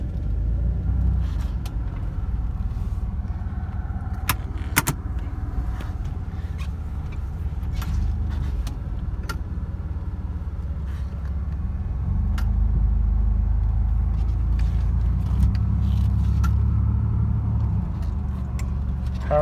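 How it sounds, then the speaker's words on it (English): A 1993 GMC Typhoon out on a drive, with a steady low engine and road rumble heard from inside the cab that swells a little partway through, plus occasional light clicks and rattles. "Let's go out for just a quick spin."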